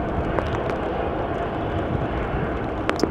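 KLM Boeing 737-800, 23 years old, passing at Amsterdam Schiphol Airport on a showery day, a steady broad jet roar held at even loudness throughout with no talk.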